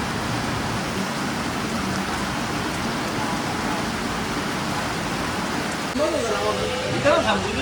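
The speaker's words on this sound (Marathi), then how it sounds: "बाहेर जाम पाणी पडते." Heavy rain pouring outside on a Hong Kong street, a steady dense hiss of drops that continues without a break, with a brief louder rustle near the end.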